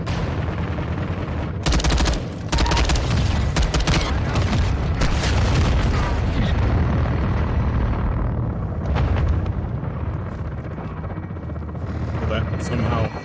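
Artillery strike in Call of Duty: Modern Warfare 2 (2022), heavy booming explosions and gunfire layered over a constant loud din of combat with a helicopter in the mix, dense and sustained throughout, with game voices under the noise.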